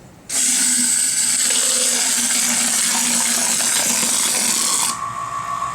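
A foaming device whirs loudly and steadily for several seconds while whipping ProFoam and Nibor D into a dry foam, starting abruptly and then dropping to a lower hum.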